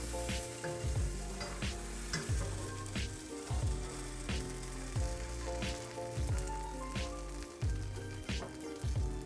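Sourdough discard crepe batter fries in a pan, a steady bright sizzle running through the whole stretch beneath louder, melodic background music with regular beats.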